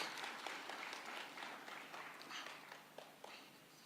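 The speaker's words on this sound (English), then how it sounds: "Let's give her a round of applause" Faint, thin applause at a State House treaty signing ceremony in Kenya, scattered claps rising and fading softly in a large formal room.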